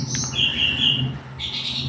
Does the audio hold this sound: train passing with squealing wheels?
no